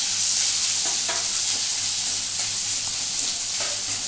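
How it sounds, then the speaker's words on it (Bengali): Grated ginger stirred into hot oil with asafoetida in a pan for chana dal puri, giving a loud, continuous close-up sizzle broken by soft intermittent scrapes of the spoon. "আর এই যে আদা গ্রেট করাটা আছে, এই আদাটা আমি এর মধ্যে মিশিয়ে দেবো। এটাকে একটু নাড়াচাড়া করবো।"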